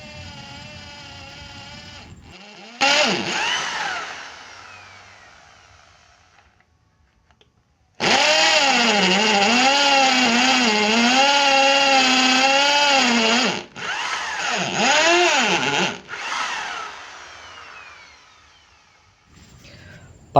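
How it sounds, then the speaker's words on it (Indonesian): An electric drill about eight years old whirs up briefly, then runs loud and steady for several seconds before spinning down and giving a couple of shorter bursts. "Performanya masih normal ya, masih bagus untuk mesin bor di usia sekitar 8 tahun."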